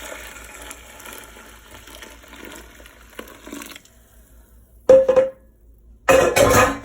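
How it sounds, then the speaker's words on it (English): A hiss of running water, then two loud short gushes of water poured in bursts into a pot, close by, with silence between. "just so I can pour my water in there"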